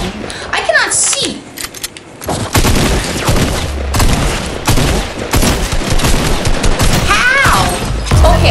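Tactical shotgun fire in the video game Fortnite: loud blasts and bursts of rapid gunfire mixed with other game effects, nearly continuous and close, with a young voice talking over parts of it.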